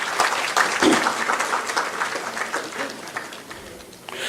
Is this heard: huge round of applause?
yes